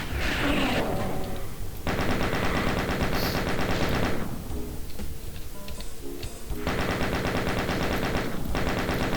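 Rapid, sustained chaingunner gunfire in the video game Doom II, dense continuous bursts with brief gaps between volleys, loud and close with no talk.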